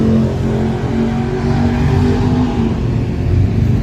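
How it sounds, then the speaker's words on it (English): A drag car launches off its transmission brake at a night drag strip, a loud continuous engine roar with steady low harmonics held for several seconds, close and alone with no talk. "Just heard a car freaking leave off of his trans brake."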